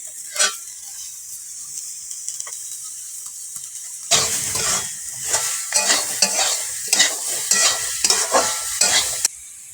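Papaya and potato chunks with turmeric and salt are stirred in a hot pan: a soft sizzle, then a burst of louder frying with repeated scraping strokes of a spatula, up close and without talk.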